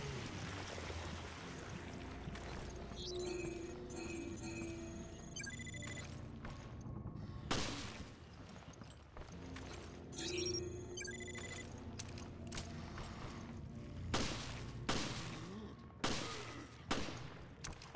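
Gunfire in Resident Evil Revelations, a series of sharp shots aimed at heads, several sudden cracks spaced over the span amid game ambience and mechanical hum, with a cluster of bursts near the end.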